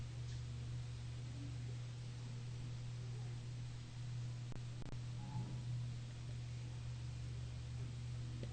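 An electric fan runs steadily throughout, a constant low hum with broadband airy whirring at even loudness, with no talk over it.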